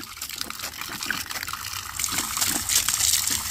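Well pump plumbing spitting out water and trapped air, with irregular gushing bursts and sputtering splashes that surge and grow louder toward the end, heard up close.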